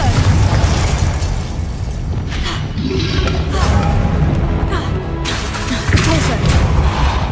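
Confringo fire spell blasting in the Hogwarts Legacy video game, a dense, loud run of booming bursts and thuds with crackling debris, busy throughout under game effects and shouted spell voices.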